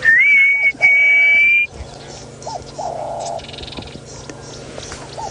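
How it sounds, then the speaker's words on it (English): A black cuckoo gives a loud, clear whistled call at sunrise in the African bush, two drawn-out tonal notes close by, followed by fainter background birdsong. "Black cuckoo."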